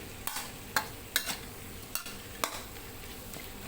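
Spatula strikes clatter against a pan at irregular intervals over a steady frying sizzle as pork is stir-fried with holy basil and dried chilies, with no voices.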